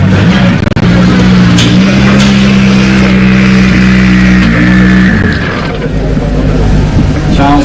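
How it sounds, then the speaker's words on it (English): A Skoda Fabia RS Rally 2 car's engine drones loudly and steadily up close at a rally flag-off event, pitch shifting as it pulls away amid crowd noise and a commentator's voice. "Kajetanovich and Maciej Zepaniak, all the way from Poland in their Skoda Fabia RS in the Rally 2 category"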